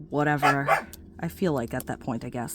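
A dog barks and yips a few times in the background while a person speaks close up over it.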